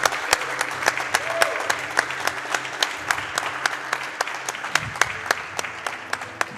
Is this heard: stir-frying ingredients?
no